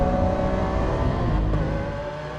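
A Lamborghini Aventador S roars on a track, its engine loud and close in a sustained high-revving drone that eases slightly toward the end, with no voices.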